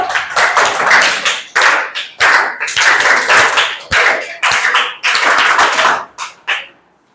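A classroom of students claps in loud, quick bursts of sharp hand claps with brief gaps between rounds, ending in a couple of isolated claps and then silence.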